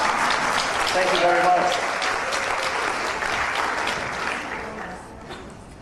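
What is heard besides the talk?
audience applause for costume contestants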